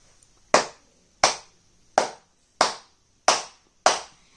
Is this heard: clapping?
yes